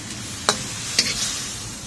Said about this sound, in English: I'm going to stir fry this